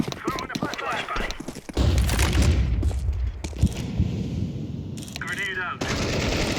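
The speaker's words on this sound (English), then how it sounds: "Throwing a flashbang." Explosive blasts and rapid gunfire from a tactical shooter video game, with a flashbang grenade going off among bursts of automatic fire, loud and dense, under an overlaid voice.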